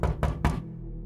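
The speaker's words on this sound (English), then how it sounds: "The familiar sound of Lindsay's knuckles rapping on his front door jolted him out of bed." Knuckles rapping on a front door, three quick sharp knocks close by, then a brief low resonance as they fade into quiet.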